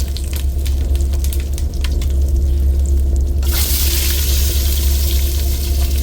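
Mustard seeds, dried chillies and curry leaves hit hot oil and sizzle loudly and steadily up close, the frying hiss swelling abruptly midway as more goes into the pan, over a constant low hum.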